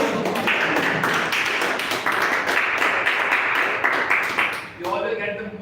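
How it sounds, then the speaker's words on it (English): A round of applause from a Toastmasters club audience in Jaipur: dense, sustained clapping for nearly five seconds that fades out, with a voice briefly taking over at the end. "Big round of applause."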